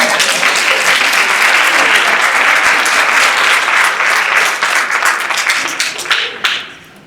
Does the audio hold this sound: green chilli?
no